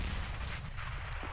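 Grenade explosions in CS:GO come as a dense, loud, booming rumble that fills the short moment without a break.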